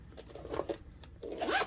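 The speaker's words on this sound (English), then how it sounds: "This one zips." A zipper is pulled closed on a small eyeglass case, with two short zipping strokes close up and quiet, and no talking.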